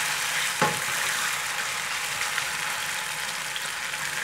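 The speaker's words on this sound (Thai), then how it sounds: "แล้วก็ค่อยๆผัดไปจนสุกนะคะ" Sliced pork with garlic and pepper stir-frying in a pan, a dense, steady close sizzle with one clear utensil tap near the start and faint stirring scrapes.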